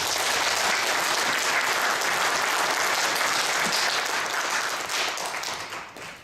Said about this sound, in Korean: 세 분 우리 박사님께 여러분 박수 한번 크게 보내주십시오.